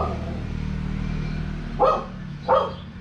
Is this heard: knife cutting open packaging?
no